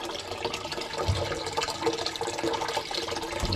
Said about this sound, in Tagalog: ramihan pa natin ng tubig